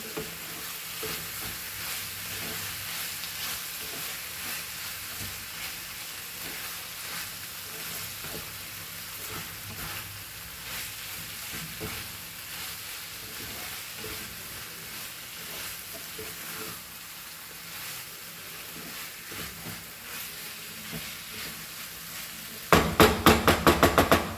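Goan pork chilli fry sizzles in a pan with a steady broad hiss and occasional stirring sounds for a long stretch. A burst of sharp, louder clattering knocks arrives right at the end.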